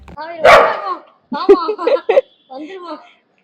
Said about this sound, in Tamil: வழியில் வந்து பாத்தீங்கன்னா ஒரு நாய் நிற்கிது